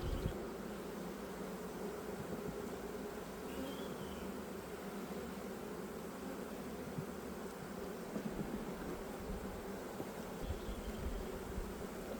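A small, weak honey bee colony hums at its hive while two colonies are being combined, a steady, close, even drone with no voices over it.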